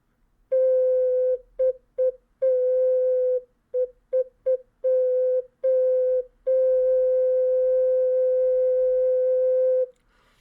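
A tenor concert ocarina in C3 plays pure, hollow wind tones alone, with short separated notes in an irregular rhythm followed by one long sustained note.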